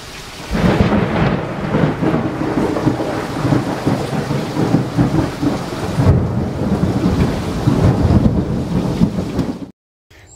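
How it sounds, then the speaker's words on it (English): A thunderstorm rumbles with heavy, continuous rain and rolling thunder, loud and close, holding steady for about ten seconds before cutting off abruptly. "Good old-fashioned thunderstorm."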